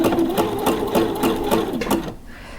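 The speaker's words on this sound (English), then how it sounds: "So I have my settings already done on the machine, and I'm just going to start sewing." Sewing machine stitching lace for underwear, running in a steady rapid chatter of needle strokes with a faint rhythmic pulse, close and clear for about two seconds before stopping.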